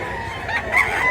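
A single short crow from a rooster, close and fairly loud, rising in pitch toward the end.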